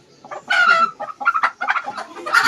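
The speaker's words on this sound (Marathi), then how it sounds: "ही अंडी देणारी कोंबडी आहे" Free-range village hens kept for laying eggs cluck close by in short, uneven bursts of rising and falling calls, with no one talking over them.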